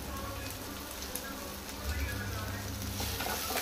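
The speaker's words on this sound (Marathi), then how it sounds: "बरें फ्राय करून घेवया ताका." Onions sizzle and fry in a pan, a steady close crackling hiss that runs throughout with no talk, fairly quiet overall.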